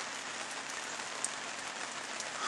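Steady rain falls outdoors near a parked truck, a dense even hiss of drops on surfaces with no pauses and no talking.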